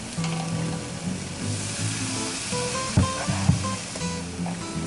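Garlic frying in a pan alongside bacon-crusted sirloin, a steady close sizzle with occasional stirring clicks and pops, no talking.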